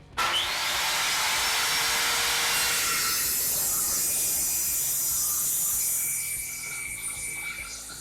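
A handsaw cuts through wood while building a Ryobi tool hanger indoors, giving a steady, close rasping sound that runs nearly unbroken for about six seconds before easing off.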